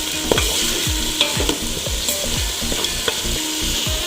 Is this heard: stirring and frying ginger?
yes